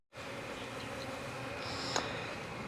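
Honey bees buzz steadily inside an open beehive during a hive check, a dense close drone of many wings with one brief louder flick near the end and no talk.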